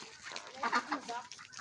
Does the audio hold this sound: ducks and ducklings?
yes